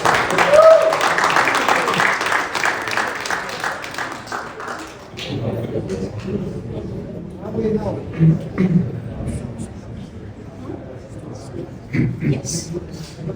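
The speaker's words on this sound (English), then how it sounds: "Round of applause." An audience at a startup fundraising competition applauds, a dense burst of clapping for the first few seconds that gives way to quieter room noise and scattered taps, with talk over the top.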